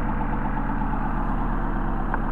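A Mercedes 190SL engine with Solex carburetors idling, a steady even low rumble that stays close and constant, with no voices.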